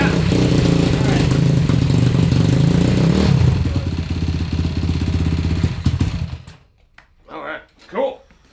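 A 190cc five-speed yard kart engine revs loud and close with a rattling, clattering drone for about six seconds, then cuts out, leaving brief voices in the quiet.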